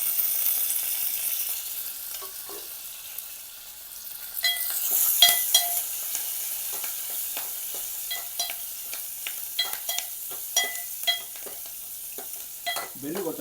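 Mustard seeds, cumin, green chili and curry leaves hitting hot oil in a pan, a soft steady sizzle punctuated by sharp spattering pops and crackles that grow busier, with occasional stirring clinks of a utensil.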